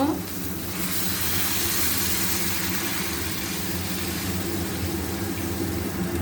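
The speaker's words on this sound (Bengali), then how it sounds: "পরিমাণ মতো গরম জল দিয়ে দেব।" Hot water poured into a cooking pot of rice and potatoes for muri ghonto, giving a steady hissing, bubbling rush that stays fairly loud and even throughout.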